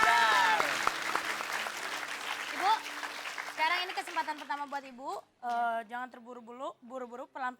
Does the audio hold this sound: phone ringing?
no